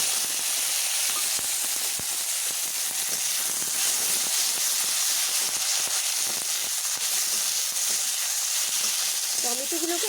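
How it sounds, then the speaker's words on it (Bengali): Tomatoes dropped into hot oil over fried spices of dried chilli and clove, sizzling and hissing steadily throughout, a dense continuous fry noise that stays loud and even from start to finish. "ফোড়নটি বেশ ভাজা ভাজা হলে আমি এবার টমেটোগুলোকে আমি ছেড়ে দিলাম"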